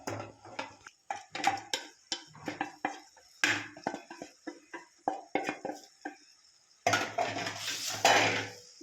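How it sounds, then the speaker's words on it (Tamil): Boiled pasta is stirred into gravy in a pan, with a spoon clinking and scraping against the metal in quick, irregular close strokes, heard alone. "இப்போ பாயில் பண்ண பாஸ்தாவை இப்போ கிரேவி கூட ஆட் பண்ணிக்கலாம்."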